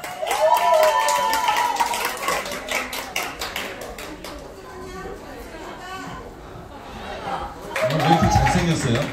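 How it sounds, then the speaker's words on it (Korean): Audience at a year-end concert claps at the start, with scattered cheering and chatter and a host speaking, then a second louder burst of applause near the end. "여러분의 큰 박수와 함성으로 시작하도록 하겠습니다"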